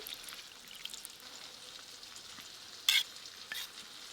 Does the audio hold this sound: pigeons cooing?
no